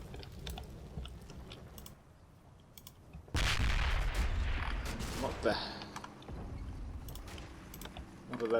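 Gunfire in the World War II wargame Combat Mission Final Blitzkrieg, set at Stavelot: bursts of shots crackle in from a quiet start and continue unevenly, loud and near at times and thinner at others.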